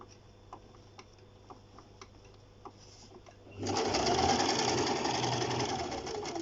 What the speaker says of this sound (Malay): Dan kita jahit.